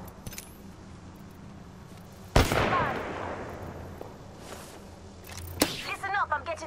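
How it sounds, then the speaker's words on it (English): Gunfire in Apex Legends: a sudden loud shot with a ringing decay, followed later by another sharp crack and scattered clatter, over a low quiet background. "Listen up, I'm getting shot at."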